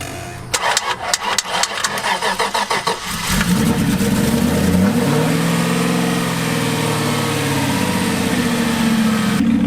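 An Aston Martin engine cranks with a rapid stuttering start, then catches and revs up into a loud, sustained roar close by.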